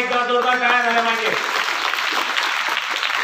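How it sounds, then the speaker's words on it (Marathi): Someone speaks briefly into a microphone, then students at a school event break into loud, sustained applause that fills the rest of the moment. "पुन्हा एकदा जोरदार टाळ्या झाल्या पाहिजे."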